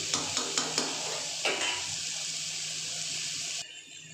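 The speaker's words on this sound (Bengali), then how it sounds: "পেঁয়াজের সঙ্গে একটু নেড়ে নেব একটু হালকা ভাজা ভাজা হয়ে যাক এক দু মিনিট একটু আমি তেলের মধ্যে নেড়ে নিই" Onions are stirred and lightly fried in oil, with a few sharp spatula taps at the start over a soft, continuous sizzle that stops abruptly near the end; nobody speaks.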